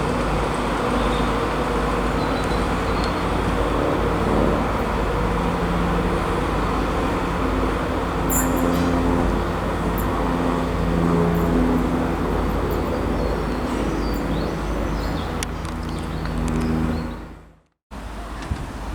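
An LNER train hauled by locomotive 91122 passes through Durham on the East Coast Main Line with a loud, sustained rumbling roar that holds steady, then fades and cuts off abruptly near the end.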